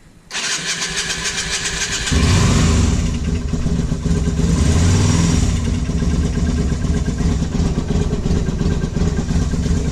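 A vehicle engine cranks briefly, catches, and settles into a loud, steady idle that rises slightly in strength after a couple of seconds. It is heard up close throughout, with no talking.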